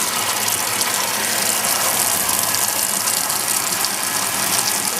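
A 1986 Sears Kenmore 70 Series washing machine starting up once its knob is pulled: a steady, close mechanical whir and rush that runs evenly without pause.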